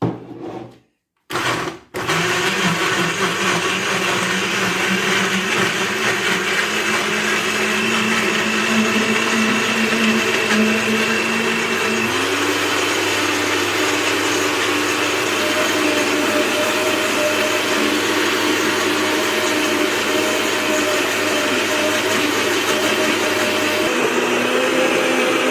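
A kitchen blender runs steadily and loudly for over twenty seconds while blending cassava with water for fufu powder. It starts after a brief pause, and the motor pitch shifts partway through.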